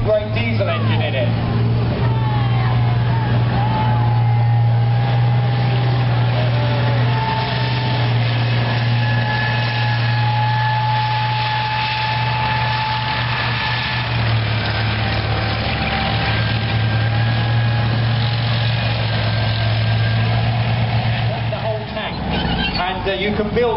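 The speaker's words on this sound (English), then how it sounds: "this was a version of the chieftain we made for the Middle East with a nice thumping great diesel engine in it." Diesel engine of a Chieftain-type tank built for the Middle East, a steady low thumping drone running continuously with a faint higher whine, fairly loud and constant before dropping off near the end.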